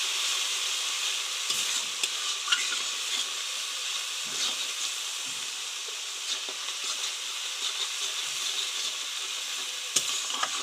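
Spices for a potato and pointed gourd curry sauté in a pan with a steady loud sizzle, punctuated by occasional stirring scrapes, close up and with no talk.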